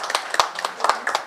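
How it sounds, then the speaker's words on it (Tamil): Scattered hand claps from an audience at a children's book launch event, a handful of sharp claps spread unevenly across a short burst, moderately close with a faint voice underneath. "எல்லாரும் அவங்களுக்கு ஒரு கைத்தட்டல் கொடுத்துடலாம்"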